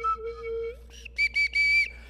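A slide whistle plays a sustained tone that glides, then a few short bright toots and a longer held note, loud and close with no speech.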